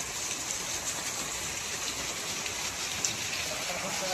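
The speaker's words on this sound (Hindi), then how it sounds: "ये देखें पूरा इतनी जबरदस्त बारिश होती है कि बाहर निकलना बड़ा मुश्किल पड़ जाता है" Heavy monsoon rain pours down in Roorkee amid flooding, a dense, steady hiss of downpour that holds continuously and loud throughout without a break.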